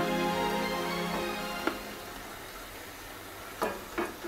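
Soybean koftas fry in hot oil, a soft steady sizzle with a few sharper clinks and stirring knocks toward the end, fairly quiet and with no talking.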